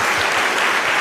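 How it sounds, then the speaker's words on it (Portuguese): A church congregation claps together in steady, dense applause that stays full and even for about a second. "Dê uma salva de palmas a Jesus."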